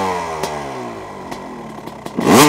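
A Honda CR250 dirt bike fitted with Lectron carbs idles steadily with a clear two-stroke putter and a few sharp blips, then revs up loudly at the end, close by and with no talking.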